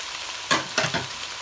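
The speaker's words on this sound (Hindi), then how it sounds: "साथ ही मैं इसमें भिंडी डाल दूँगी। इसको मिक्स करना।" Okra frying in a pan for a curry, stirred with a utensil: three short scraping, sizzling strokes in quick succession over a quiet background hiss.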